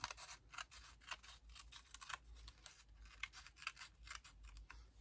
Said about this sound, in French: Mais je vais découper tout simplement.